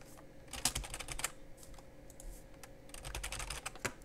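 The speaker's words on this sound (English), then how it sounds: "type in who we're going to send it to" Keys clatter on a computer keyboard while someone writes an email in Outlook: two quick, fairly close flurries of clicks separated by a short pause, with no voices.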